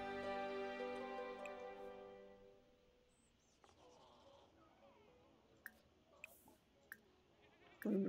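A goat in The Sims 4 bleats loudly in one long, wavering cry, followed by quiet background and a few faint clicks.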